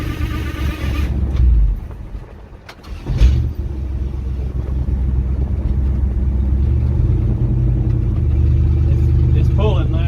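A 1971 Dodge D100 truck, back on the road after sitting abandoned for 34 years, has its engine pulling steadily under load with a low, continuous rumble. A brief dip partway through is followed by a sustained drone as the truck drives on.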